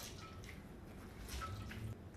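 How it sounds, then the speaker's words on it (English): Water squeezed by hand out of grated zucchini in a kitchen, a quiet, close, wet dripping and squishing that runs steadily and swells briefly toward the end. "I'm just going to squeeze it in case there's any more water in here."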